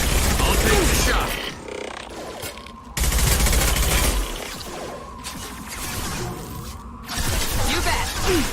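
Rapid bursts of sci-fi gunfire from Mass Effect 2 combat, loud and close, in several volleys separated by brief quieter stretches with mechanical whooshes and clatter between them.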